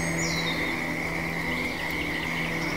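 Frogs croaking in a dense chorus, a steady, continuous overlapping drone of calls close by and fairly loud, with no voices.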